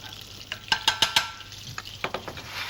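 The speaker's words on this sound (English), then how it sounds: "Clarify butter into the pan on a fair heat to start." Clarified butter heats in a non-stick pan over moderate heat, giving a faint sizzle beneath a series of sharp clicks and taps of a utensil against the pan, quiet and close.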